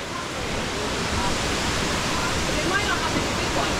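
Steady, dense roar of a waterfall on Lombok, Indonesia, filling the whole scene without letup, with a faint voice briefly audible beneath it.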